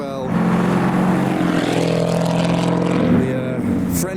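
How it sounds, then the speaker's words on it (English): Three Camaros, one V6 and two V8s, one with its V8 in the rear, idle and rumble close by with a steady deep engine drone that swells slightly before easing off, alone throughout. "got a trio of Camaros with V6, V8 and a V8 at the rear as well"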